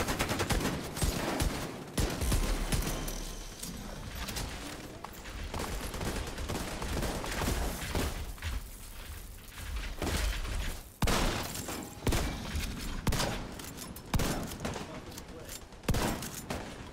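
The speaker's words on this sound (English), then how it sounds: "I needed to use my Dodge City shotgun." Shotgun blasts from a Dodge City shotgun in a video game ring out repeatedly amid heavy in-game gunfire and impacts, loud and dense throughout.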